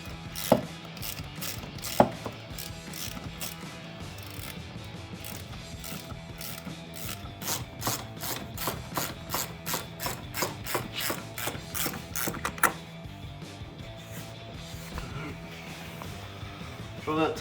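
A ratchet tightening the hose clamps on an AFE Momentum GT cold air intake for a Challenger gives rapid, close mechanical clicking in steady bursts, with a brief pause before the clicking resumes.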